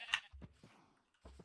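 Sheep in Minecraft bleat in a few short, separate calls, one sharp and higher, the others lower and softer, with brief quiet gaps between them.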